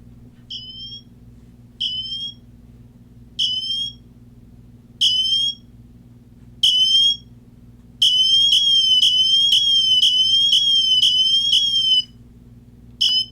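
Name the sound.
smartwatch emergency siren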